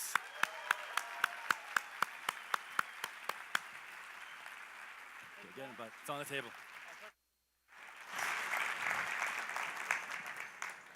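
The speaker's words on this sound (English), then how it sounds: "help me give a huge round of applause for the co-founder of Digital Marketer and your host" At a large marketing conference, a few sharp, evenly spaced loud claps are followed by a short spoken exchange and a brief dropout. Broad audience applause for the host then rises and continues at a moderate level.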